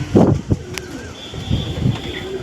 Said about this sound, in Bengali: এই হচ্ছে পায়রা, বন্ধ লেজের পায়রা